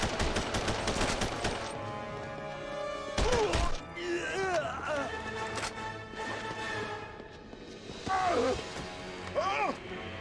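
Gunfire from The Punisher PS2 video game crackles in sharp bursts and rapid volleys, mixed with crashes, thuds and pained groans from the game's characters.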